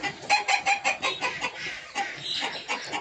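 Spotted and Kappiri breed chickens cluck in a close, rapid series of short repeated calls with overlapping voices, fairly faint and with no talking.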